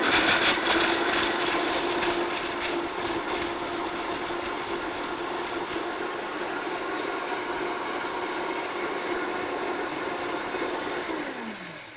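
A blender purees almonds with water for almond milk, a loud, steady whirring grind that runs continuously near the microphone, then winds down with a falling pitch as it switches off at the end.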